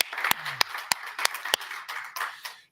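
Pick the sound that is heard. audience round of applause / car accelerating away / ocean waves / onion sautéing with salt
audience round of applause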